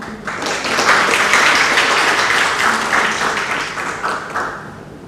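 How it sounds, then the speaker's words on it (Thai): An audience applauds a witness at a Thai academic signing ceremony, clapping swelling to a full, sustained round and then easing off near the end. "ขอเสียงปรบมือต้อนรับท่านด้วยค่ะ"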